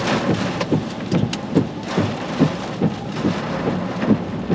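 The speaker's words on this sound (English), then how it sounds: "I don't know if you can see it raining sideways." Hurricane Idalia eyewall rain driven sideways by extreme winds over 120 mph, a steady dense roar of rain with repeated gusty thumps and surges, loud and close, with no talking.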